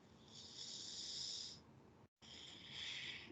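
Two long, airy breaths of ocean-like wave breathing, an inhale then an exhale, each rushing and hissing like surf, close and steady with a brief silence between.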